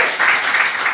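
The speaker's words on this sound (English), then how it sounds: "Give a round of applause" Audience applause at a music festival, a dense, steady wash of clapping heard close and loud throughout the short moment, with no voices over it.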